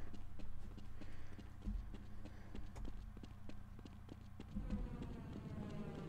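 Insect-like buzzing from the bee gun in the video game Half-Life, a dense continuous drone laced with rapid clicking ticks and low rumble, steady and fairly loud with no speech.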